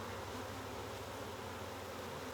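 Agitated honey bees swarming around an opened hive: a dense, continuous buzz of many insects, loud and steady throughout, with no voices.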